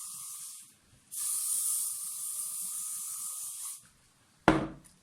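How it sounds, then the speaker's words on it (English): A close VO5 aerosol hair spray hisses in two bursts, a short one and then a longer steady spray, followed by a brief rustle. "I'm going to use this VO5 Fem Hold Spray."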